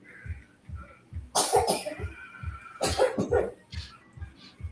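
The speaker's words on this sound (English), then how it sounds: "Those coughs again." Two bursts of harsh coughing, each a quick cluster of hacks, over a regular low thumping beat that pulses underneath the whole time.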